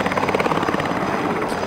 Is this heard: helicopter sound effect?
yes